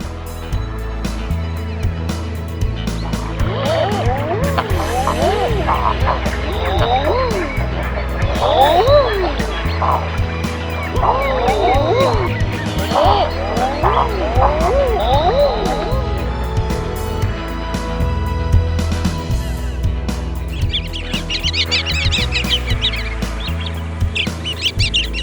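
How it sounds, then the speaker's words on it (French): Soft cooing "ah-ooo" calls of common eider ducks repeating in a flock in Iceland, drifting over a loud low background drone, with occasional higher chirps. "le surprenant Eder à duvet."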